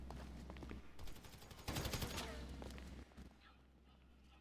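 Gunfire in the video game PUBG, several bursts of rapid shots with a dense volley near the middle, fairly faint overall and trailing off into quieter ambience.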